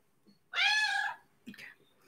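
A house cat gives one clear, drawn-out meow followed by a shorter, fainter chirp, close and alone with a quiet room around it.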